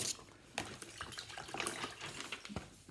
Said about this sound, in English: What a splashing he made.